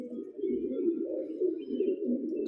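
A white pigeon of the kind called chocha, a flying bird kept for at least four years, coos in a low, continuous rolling murmur close by, steady throughout with no talk over it.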